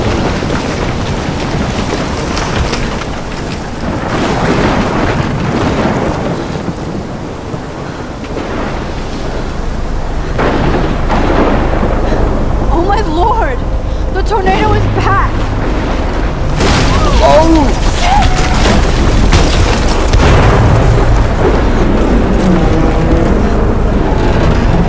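A heavy thunderstorm in Life Is Strange booms and rumbles loudly with steady wind and rain noise, rolling thunder swelling throughout, while a voice talks at times over it.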